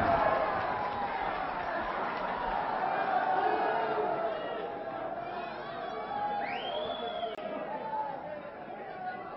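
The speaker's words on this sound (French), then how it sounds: "Le public applaudit." Crowd at a French professional wrestling match in Puteaux applauding and murmuring, a steady wash of claps and chatter under a commentator's voice.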